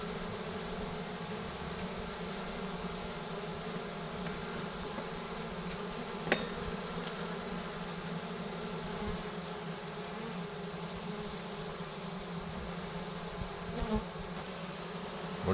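Dense, continuous hum of a honey bee swarm buzzing close by, steady and even throughout, with a couple of faint knocks and no voices.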